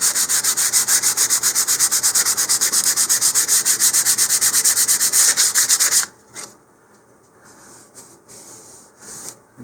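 Rhythmic, loud back-and-forth rasping of sandpaper along the seam of a model rocket kit, close and steady for about six seconds, then stopping to a few faint scratches.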